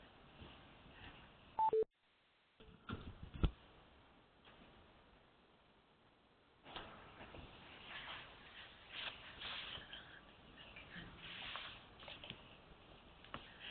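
Telephone keypad tones beep as callers press keys on a conference line, a few short bright tones early on, then a gap of near silence followed by faint murmuring line noise.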